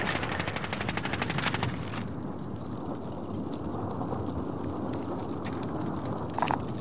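Rapid automatic gunfire in a Call of Duty Warzone match, a dense rattling burst for the first two seconds, then a quieter sustained rumble of distant shots and noise with a sharp crack near the end; no voices.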